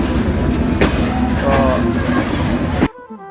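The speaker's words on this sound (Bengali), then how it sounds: "ট্রেন ছাড়লো ভেড়ামারা থেকে" A train pulling out of Bheramara railway station in Kushtia gives off a loud, continuous rumble and rattle of wheels and carriages, with a sharp knock partway through, before the sound cuts off abruptly near the end.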